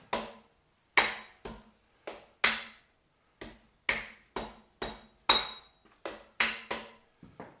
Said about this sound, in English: Got my dead blow hammer.